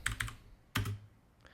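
Keystrokes on a computer keyboard while working in Rhino 3D modeling software: two quick clicks, a louder press a moment later, then a faint tap, close and alone with no talk.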